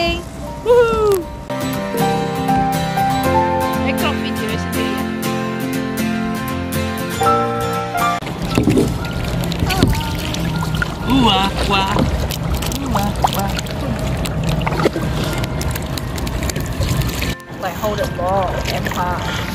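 Someone paddles a kayak on water near Queenstown, with water sloshing against the boat and wind noise on the microphone. Background music plays throughout and people talk and call out over it.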